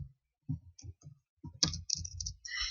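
Computer keyboard clicking as C code is typed, a quiet irregular series of close keystrokes that bunch into quicker runs toward the end.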